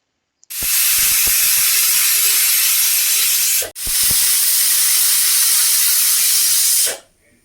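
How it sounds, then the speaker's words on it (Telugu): A pressure cooker whistle: a loud, steady rush of hissing steam runs for several seconds, pauses very briefly, then resumes and cuts off abruptly. "కుక్కర్ మూత పెట్టుకొని టూ విజిల్స్ రానివ్వాలి"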